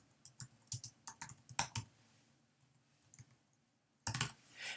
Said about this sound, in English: and I'm going to type in my name.